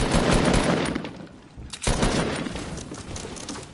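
Rapid video-game gunfire bursts loudly in dense volleys, breaks off briefly, then resumes with a sharp crack and continues in a sustained stream.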